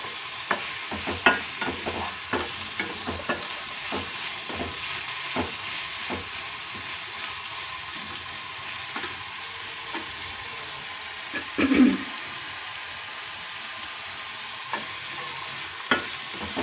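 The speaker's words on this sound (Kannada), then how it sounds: "ಈರುಳ್ಳಿ ಒಂದು ಸ್ವಲ್ಪ ಕೆಂಪಗಾಗೋವರೆಗೂ ಹುರ್ಕೋಬೇಕು" Chopped onions fry and sizzle in a pan for a simple egg fry, with a spatula scraping and stirring in a steady rhythm of taps, close and clear with no voices; one brief louder scrape partway through.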